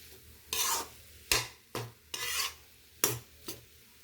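Cluster bean paruppu usili being stirred in a pan: several distinct scraping strokes in an uneven rhythm, close and moderately loud over a faint background, with no talking.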